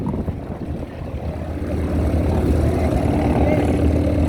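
A T-28 Trojan's deep, throbbing radial piston engine drones steadily and grows louder as the aircraft draws nearer at an air show, rumbling low and continuous.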